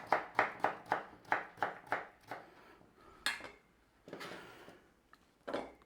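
Chopped carrot pieces tipped into a tub for a traditional Romany stew, a quick series of about eight sharp, close knocks and clatters at a steady rhythm, then a few scattered louder thumps with quiet gaps between them.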